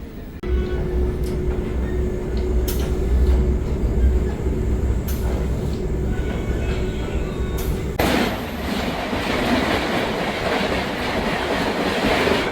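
A Vande Bharat express train runs from Mumbai to Shirdi, heard from inside as a steady loud rumble with rhythmic rail clicks. A sharp shift partway through brings a brighter, rougher roar.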